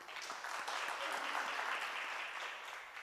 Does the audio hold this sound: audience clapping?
yes